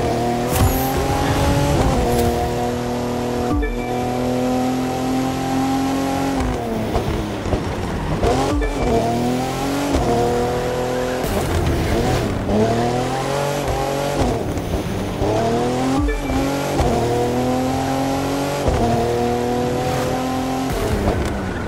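Race cars in the driving game The Crew 2 scream through a technical motorsport section, engines revving up and down in repeated sweeps with tire squeals and skids, loud and continuous.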